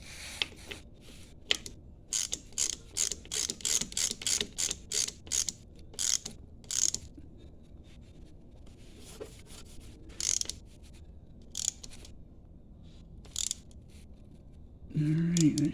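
A hand ratchet tightens a bolt during an oil change on a 1988-2007 Kawasaki Ninja motorcycle, giving quick bursts of crisp clicking strokes in a quiet space, with pauses between runs and a brief thump at the end.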